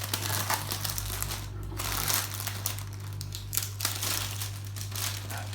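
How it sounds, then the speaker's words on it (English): Close crinkling and crackling of plastic wrapping being pulled and crumpled, a busy continuous rustle over a low electrical hum. "Packaging off."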